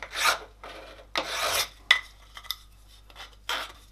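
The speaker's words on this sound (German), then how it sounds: "die Kanten breche ich da ganz leicht." A metal file rasps in several separate short strokes, lightly breaking the sharp edges of a metal mulching insert made for an Einhell GE-CM 33 Li cordless lawnmower. The strokes are close and fairly loud, with pauses between them and no talking.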